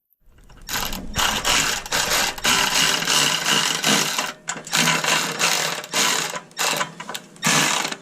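A Milwaukee power tool snugs nuts on a log splitter fitted with a Honda GX200 motor. Its loud, close buzzing runs in several bursts with short gaps between them.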